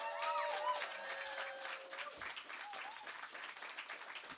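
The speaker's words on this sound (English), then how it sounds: "Can we give a massive round of applause for the organisers?" Audience applause for the organisers at a Mind Over Slammer poetry slam heat in Manchester, a steady wash of clapping from a crowd, moderately close, with a brief whistle or voice tone over it at the start.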